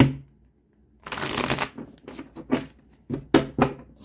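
A deck of tarot cards is shuffled up close in a quiet room: a long riffle burst, then a series of short, crisp shuffling bursts with brief pauses between them.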